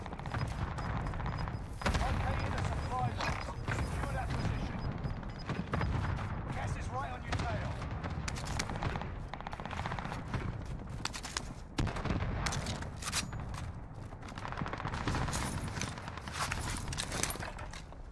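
Video game gunfire, rapid volleys of shots and impacts crackling in irregular bursts across a busy battle soundscape with footsteps, moderately loud with a voice occasionally talking over it.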